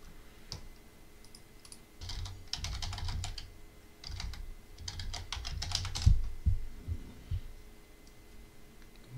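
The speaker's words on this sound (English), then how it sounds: "We have to manually type it in." Typing on a computer keyboard, quick clicking keystrokes in bursts with short pauses, close and fairly quiet over a low steady hum, no one talking.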